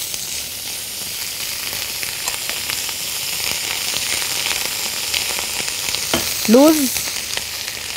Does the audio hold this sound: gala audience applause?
no